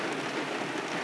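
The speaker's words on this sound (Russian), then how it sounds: "Хороший такой пошел дождик." Steady summer rain patters and drips densely near an open door by a lake, a continuous wash of drops with no voices.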